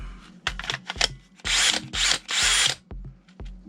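A DeWALT 18V power tool whirs in several short bursts on a repaired battery, close and loud, with a few quick clicks and trigger pulses and longer runs in the middle, and no talking.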